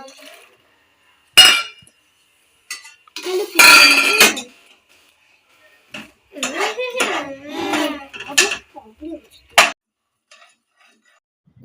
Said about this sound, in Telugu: వీటిని క్రిస్పీగా అయ్యే వరకు రోస్ట్ చేసుకోవాలి